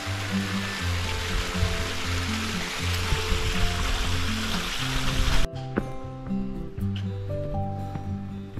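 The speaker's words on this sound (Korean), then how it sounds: "3단 폭포입니다." Continuous rushing water from a three-tier mountain waterfall along a hiking trail, loud and steady at first, then dropping abruptly to a quieter, more distant flow partway through.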